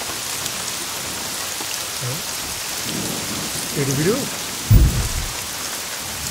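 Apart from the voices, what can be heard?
rain and thunder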